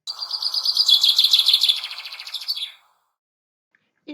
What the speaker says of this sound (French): Et écouter le chant des oiseaux.